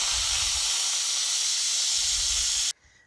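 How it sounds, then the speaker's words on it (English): A loud, steady hiss of steam blasts from an Instant Pot pressure cooker on manual release while making chicken broth, running continuously before cutting off abruptly near the end. "So you just hit the button and the steam will come out."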